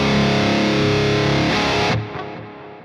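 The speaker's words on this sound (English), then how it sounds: "so I engage the reverb" Distorted electric guitar through a Marshall amp plugin with delay and reverb engaged, a loud sustained wash of notes that cuts off abruptly and leaves a short reverb tail.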